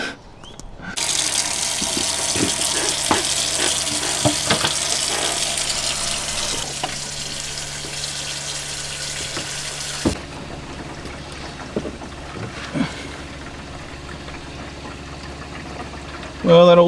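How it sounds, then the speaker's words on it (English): Water rushes steadily through a greywater hose into a campervan tank, a continuous gushing flow lasting about ten seconds, then quieter trickling with scattered knocks. "you can hear the water coming through and into the tank"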